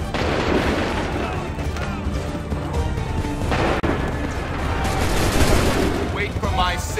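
Soldiers fire a musket volley in the video game Assassin's Creed III during a battle, giving a dense rattle of overlapping gunshots and booms over noisy battlefield ambience.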